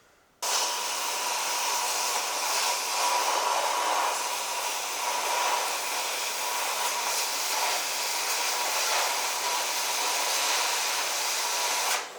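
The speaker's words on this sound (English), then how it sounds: "I can go ahead, get the torch, and start cutting off my mounts." Oxy-fuel cutting torch burning through steel loader mounts while fitting a skid steer quick attach, a loud steady roaring hiss that starts abruptly and holds for about twelve seconds, close and alone.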